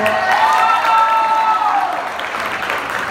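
Applause from an audience at a school rival-week event, a steady wash of clapping with a few cheers that holds strongly, then eases slightly toward the end.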